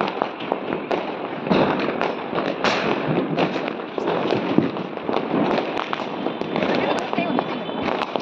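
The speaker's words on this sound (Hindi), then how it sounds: "ये हम छत पे थे और पटाखे इतने अच्छे लग रहे थे" Diwali firecrackers heard from a rooftop, a dense run of sharp pops and crackles going off repeatedly at varying distances, loud and continuous over a background of festive commotion.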